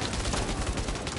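A loud, rapid burst of gunshots rattles without a break in the video game Bravo Team, close and harsh, with no speech over it.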